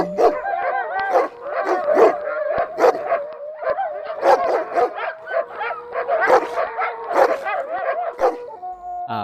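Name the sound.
dog barking in front of house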